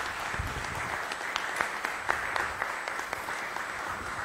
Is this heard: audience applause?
yes